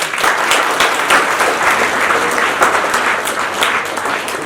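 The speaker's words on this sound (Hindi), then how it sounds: "तालियां भेजी इस बच्चे के" A school audience gives a child a loud, sustained round of clapping that fills the room evenly from start to finish, with no voices on top.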